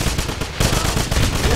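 Loud, close machine gun fire in the shooter Wolfenstein, a dense rapid stream of shots with a brief dip in the middle before the rattling resumes.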